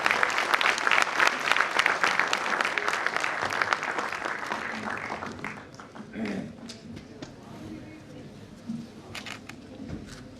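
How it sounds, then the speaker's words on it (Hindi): Audience in a university hall gives loud applause welcoming the state governor at a girls' hostel inauguration ceremony, dense clapping that gradually thins and fades over several seconds. "जोरदार तालियों के साथ स्वागत करें।"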